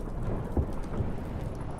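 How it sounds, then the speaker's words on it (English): Heavy rain hisses steadily in a storm in The Witcher 3, with deep rumbles of thunder rolling underneath and a couple of low thumps standing out. "Didn't bargain for no storm."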